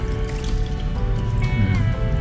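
Water is poured into a pot of ginataan, a close wet trickling and dribbling over a steady background hum, short and continuous with no voices.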